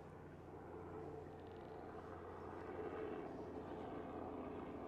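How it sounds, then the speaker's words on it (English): A distant helicopter rumble, low and steady, slowly growing a little louder overhead, with no voices. "I'm being tracked by this helicopter."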